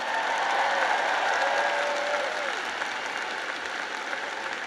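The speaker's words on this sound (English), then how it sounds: "let's give a big round of applause to your incredible parents," Crowd applause at a University of Alabama commencement ceremony, a steady, fairly distant wash of clapping with a faint voice drifting through near the start.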